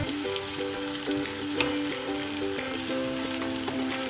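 Masala for a Kerala duck stew frying in a pan as three tablespoons of coriander powder go in, giving a steady close sizzle with faint stirring scrapes and no voice throughout.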